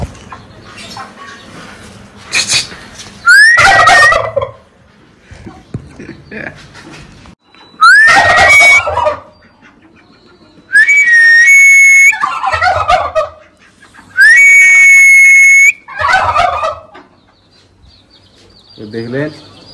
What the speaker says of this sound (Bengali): দেখলেন টার্কিটার পেখম আওয়াজটা।